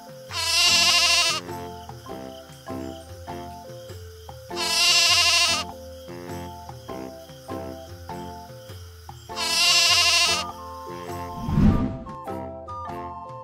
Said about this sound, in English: Barbary sheep.